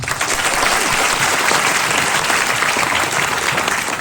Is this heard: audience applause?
yes